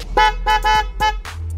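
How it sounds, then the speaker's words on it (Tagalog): A Kawasaki GPZ400 motorcycle's horn gives four short, loud honks in quick succession, close by, followed by a low engine hum. "Busina."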